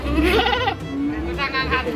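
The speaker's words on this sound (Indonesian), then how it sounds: "di sini ada kambing jantan-jantan tenun ya" Male goats bleat at a livestock market in Pakis, Malang, with a few wavering calls close by, heard over someone talking.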